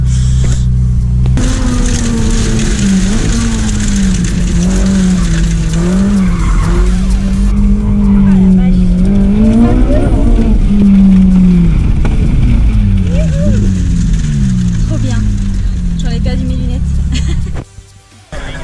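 A Ferrari 458 Speciale on mountain roads revs loud and close, its engine note climbing and falling through gear changes, with tire noise and voices talking over it.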